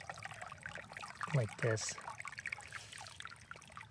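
Water trickles and splashes out of a worn camp water system at a dispersed campsite outside Blanding, Utah, a soft uneven dribble under a voice speaking close by.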